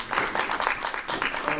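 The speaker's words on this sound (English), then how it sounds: "let's give a round of applause." Brief round of applause from a small audience at a tech event on education and wireless, a short burst of individual claps close by in an indoor room.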